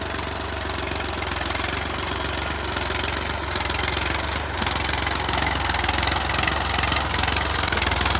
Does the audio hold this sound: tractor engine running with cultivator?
yes